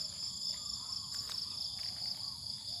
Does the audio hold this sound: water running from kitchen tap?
no